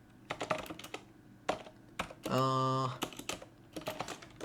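Computer keyboard typing while writing CSS code: irregular bursts of close key clicks with a brief held tonal beep in the middle, under low talk.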